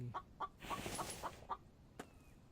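Chickens clucking in short, repeated bursts, close and fairly quiet, with one brief sharper call near the end and no talking.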